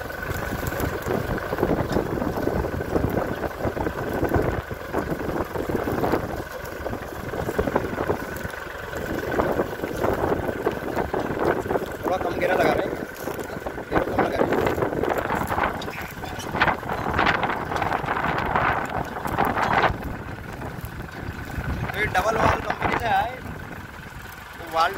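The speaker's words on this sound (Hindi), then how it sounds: "बहुत ही बढ़िया चल रहा है ट्रैक्टर, आवाज़ भी चेक कर लो ट्रैक्टर की" A Powertrac Euro 50 tractor runs in third low gear with a steady diesel engine hum and whine throughout, mixed with wind buffeting and rustling, while someone talks over it.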